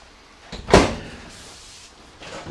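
A soft-close cabinet door in a 2027 Alliance Paradigm 382RK fifth-wheel RV swings shut with a single soft thud, followed by quiet room noise; close by, no speech.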